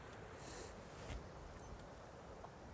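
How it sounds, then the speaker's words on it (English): Night wind shushes softly through trees on a hilltop near Bronze Age burial mounds, a faint, steady airy hiss with slight rustling swells and no voices. "the wind is sort of shushing through the trees around me"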